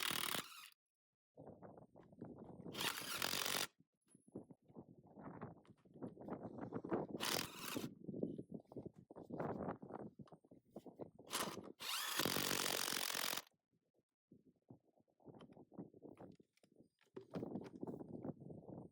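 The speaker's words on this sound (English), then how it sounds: "maybe they should have used an impact wrench because those nuts felt like they were barely hanging on" A cordless impact wrench, the SeeSii WH760, loosens old nuts on a tractor in several loud, close, rattling bursts of a few seconds each, separated by clanks and handling noise of metal parts.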